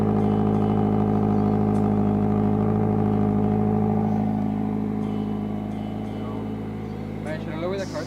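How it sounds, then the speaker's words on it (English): A Toyota 86 engine idles steadily nearby after an oil change, a loud even hum with a low steady drone, while people talk over it toward the end. "Just hear this engine purr."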